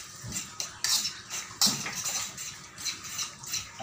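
Kinilaw tuna being mixed in a bowl, with a utensil clinking and scraping against the dish in a steady run of close, light strokes.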